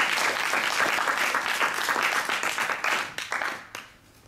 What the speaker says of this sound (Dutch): En applaus voor professor Wekker.